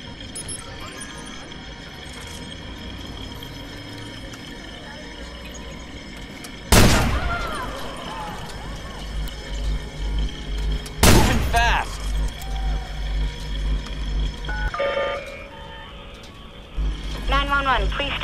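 Gunfire erupts in the Watch Dogs video game, with two sharp loud blasts followed by a run of rapid shots and clatter, heard among game voices and radio chatter.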